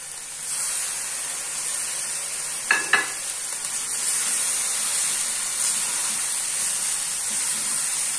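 Karela gosht, bitter gourd and meat with onions, salt, chilli and lemon juice, sautéing in a pan, giving a steady low sizzle throughout with a pair of sharp stirring scrapes near the start.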